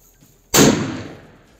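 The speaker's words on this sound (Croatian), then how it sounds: "sljedeća petarda koju testiramo je škorpija iz Oriona" An Orion Scorpion firecracker set on the ground and lit outdoors goes off with one sharp, loud bang. The noise rings out and fades over about a second, with no talk.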